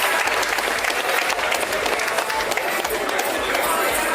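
An audience at an official commissioning ceremony gives a sustained round of applause, dense and loud clapping throughout with a crowd murmur beneath.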